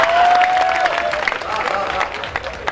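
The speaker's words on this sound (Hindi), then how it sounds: "आप ताली बजा रहे" A comedy poetry gathering audience in Dewas applauds: a dense, steady wash of many hands clapping, loud and close throughout, with a brief tonal whistle-like line at the start and some crowd murmur mixed in.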